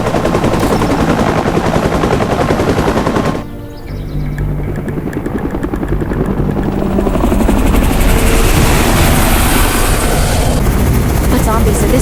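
A helicopter in a zombie survival video game: a loud, continuous rotor thumping mixed with bursts of gunfire, cutting out briefly before returning even louder.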